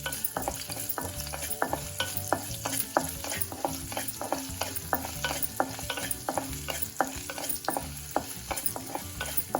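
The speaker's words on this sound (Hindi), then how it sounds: "अब हम इसमें डालेंगे थोड़ी सी अदरक, इसको चला लेते हैं।" Ginger frying in oil in a kadhai is stirred with a spoon, steady sizzling under a brisk, regular series of scraping, clinking strokes against the pan, close and continuous.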